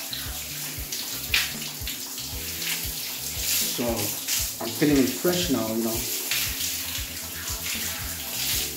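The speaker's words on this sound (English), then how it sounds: "so right now I'm taking my shower" Water from a shower streams steadily at a Finnish sauna, a constant rushing spray close by while someone talks over it.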